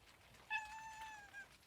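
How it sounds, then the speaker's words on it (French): A single drawn-out cat meow, clear and close, rising then trailing off in a quiet van interior. "pour vous présenter Mochi, c'est un chat très curieux, mais trop attaché à moi."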